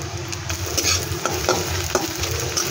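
Food sizzles in a pan at close range, with soft scraping stirs and light clinks over a steady frying hiss, alone without talk.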